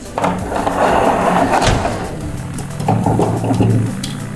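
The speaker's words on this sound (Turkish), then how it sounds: "Hey kapı açılıyor." A toy door on a children's toy playset being opened, heard as close plastic clattering and scraping of handled parts, with a sharp knock partway through and a busier rattle near the end.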